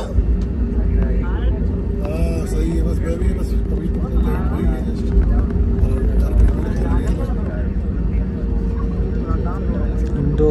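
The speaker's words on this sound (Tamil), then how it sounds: "இண்டிகோவோட ஃப்ளைட் நிற்கிது." An IndiGo airplane at Jaipur airport produces a loud, steady jet engine rumble and whine that persists throughout, with faint background chatter mixed in.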